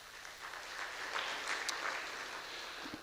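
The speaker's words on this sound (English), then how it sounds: "could you give him a little round of applause for that effort?" A round of applause from the audience at a Kenyan media awards event, soft and fairly distant, a diffuse patter of many hands with no single claps standing out, continuing steadily throughout.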